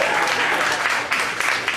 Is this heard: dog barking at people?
no